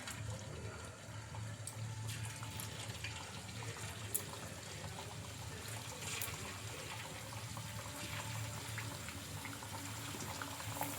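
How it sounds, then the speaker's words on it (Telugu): Food pieces bubble and fry steadily in hot oil in a home kitchen, a dense continuous low bubbling hiss with faint crackles throughout and no talking. "ఇంకా మిగిలిన వాటిని కూడా ఆయిల్లోకి అయితే వేసుకోవాలి."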